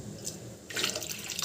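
Water poured briefly into a pot of cooking masoor dal, a short splashing gush that starts midway and runs to the end, close and fairly quiet.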